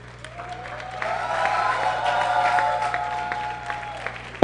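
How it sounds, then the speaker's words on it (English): An audience at a youth conference in Ibadan claps and cheers in a moderate hall, the applause rising then easing over a few seconds, ending with a sudden loud burst. "A round of applause for Morenike Molain"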